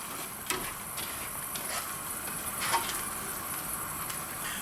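Foaming seafood marinara is stirred in a hot pan, a steady sizzling hiss broken by a few faint utensil clicks against the pan.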